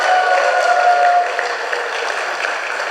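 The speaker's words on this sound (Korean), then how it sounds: "박수하셔야 돼요" Congregation applauding inside a church during a worship service for a women's group, a steady dense clapping throughout with a faint tonal hum in the first half.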